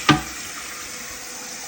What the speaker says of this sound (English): Let the bowl fill up.